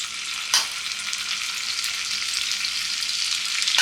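Prawns fry in a pan with a dense, continuous crackling sizzle at a steady level, with a brief sharp stir or clatter near the start.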